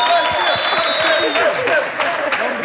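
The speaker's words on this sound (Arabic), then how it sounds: "تصفيقة كبيرة على المواهب السعدة." A crowd gives loud, sustained applause for talented performers on a television show, a dense wash of clapping with some high whistling tones over it.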